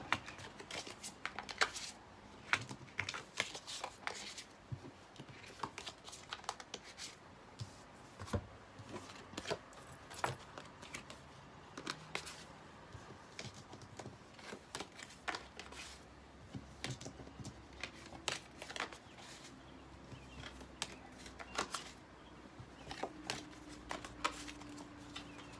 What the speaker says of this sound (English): Give it a few shuffles, and then we'll get going with Leo.